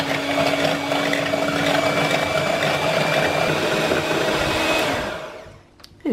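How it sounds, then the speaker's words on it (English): Electric hand beaters whisk cream in a bowl for chocolate mousse, a steady loud motor whine running continuously before slowing and cutting off near the end, with no talk. "now I'm going to use electric beaters and I'm going to whisk up cream until it's just starting to"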